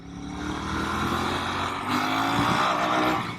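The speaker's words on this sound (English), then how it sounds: "it started to spin, then we hit the rev limiter" A Royal Enfield Bear 650 motorcycle engine revs hard and holds high, bouncing against the rev limiter with a loud, sustained, close drone on a sandy, salted road.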